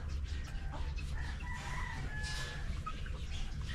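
Backyard chickens, including laying hens and a breeder rooster, fill the scene with steady clucking and crowing over a low outdoor rumble, no one talking.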